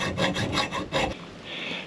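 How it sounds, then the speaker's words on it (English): A hacksaw cutting by hand during a DIY fire pit build, five quick rasping back-and-forth strokes close up, then a short pause with faint hiss. "by hand with a hacksaw"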